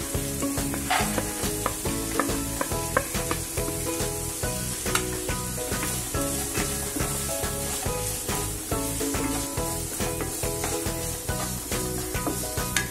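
Dal lentils hit hot oil with onion in a pan for a Marathi dal kobi dish, giving a continuous loud sizzle with rhythmic scraping stirs throughout.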